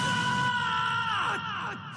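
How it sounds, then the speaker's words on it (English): A character's death scream from the video game Fire Emblem: Three Houses: a loud, sustained, strained cry that bends downward in pitch near the end, heard alone for about two seconds. "that was a good scream."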